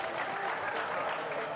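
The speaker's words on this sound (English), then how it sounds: "They're cheering because it's absolutely unsportsmanlike call" A crowd at a men's basketball game between Woodville and South Adelaide gives a brief, steady burst of cheering and clapping, filling the arena with a dense roar.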